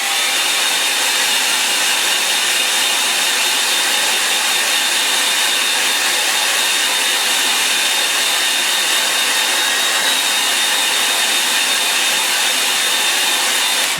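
Hair dryer blowing steadily on a watercolour sand dunes underpainting, a loud continuous whooshing roar with a thin whine, unchanging throughout with no talk.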